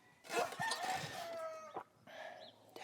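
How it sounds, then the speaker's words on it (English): A rooster crows loudly and fairly close by, one long drawn-out crow followed by a shorter second call, with no talking over it. "Daggum rooster."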